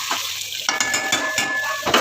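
Potatoes with dried leaves being stir-fried in a pan for a bhola fish curry, heard as a steady close sizzle with repeated spatula scrapes and knocks against the metal, and no one talking.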